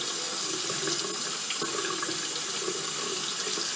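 Paint brushes are rinsed of linseed soap and another soap under a running tap, a loud, steady close rush of water into a sink with slight splashing variations, no talk.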